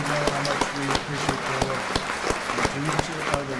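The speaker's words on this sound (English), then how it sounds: "Let's give them another round of applause." Applause from an American Legion audience honoring award recipients, rhythmic clapping close by with a hollow room echo and a lone voice speaking over it.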